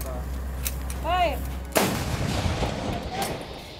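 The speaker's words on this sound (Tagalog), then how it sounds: "Ilang babaeng sundalo rin ang makikitang abala sa paghahanda para sa pagputok ng kanyon." A single heavy cannon blast booms sharply, followed by a rumbling decay, with faint outdoor noise before it.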